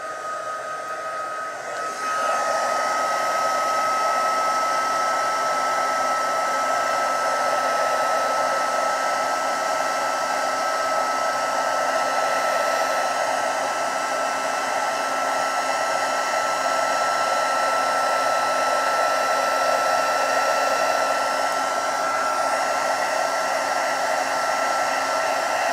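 A handheld embossing heat tool blows hot air onto cardstock for crafting, switching on after a short pause and then holding a loud, steady whirring roar with a faint high whine.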